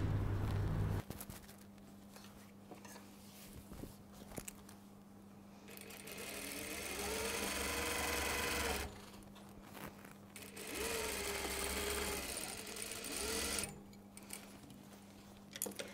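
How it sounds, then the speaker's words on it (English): A sewing machine stitches a cashmere jacket lining from neckline to hem in several long sustained runs, with a steady motor hum and brief pauses between bursts, close and clear with no talk. "I'll stitch it from the neckline to the bottom."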